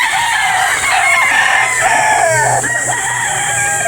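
Boston sweater breeder chickens at a backyard farm, with a rooster's loud, near crow stretching across the moment amid clucking fowl and a steady background hum.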